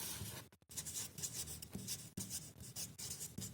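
A pen scratches out a math formula on paper, a steady close scratching broken by short pauses between strokes, quiet and alone.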